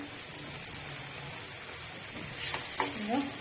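Small hilsa fish frying in a pan give a steady, close sizzling hiss throughout, growing slightly louder near the end, where a faint voice can be heard.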